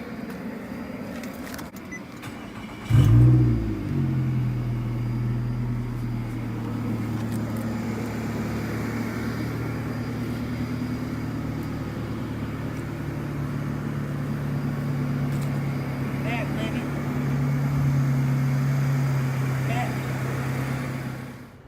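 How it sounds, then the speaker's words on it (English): A rebuilt Nissan Altima coupe engine catches and settles into a steady idle at night, with a sharp start burst near the beginning, then a constant low hum that swells slightly toward the end. "I got my car started"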